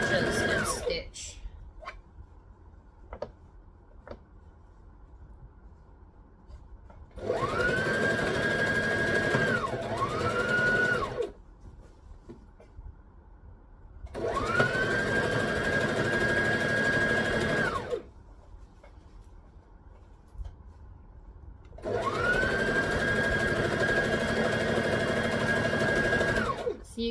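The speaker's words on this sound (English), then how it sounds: "you just line up the edges and stitch" A sewing machine stitches the lined-up edges of a wrap skirt in three long steady whirring runs, each several seconds, separated by pauses where someone talks.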